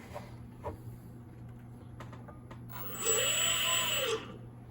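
Small electric motors on a GPS-guided model boat spinning up, a faint whir that rises suddenly into a louder high-pitched whine, holds for about a second and then cuts off, with quiet low hum beforehand.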